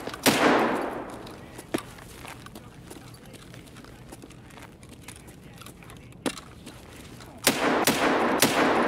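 Scattered gunshots in Escape from Tarkov ring out as sharp isolated cracks, some distant and faint, with a louder cluster of shots near the end, no voices over them.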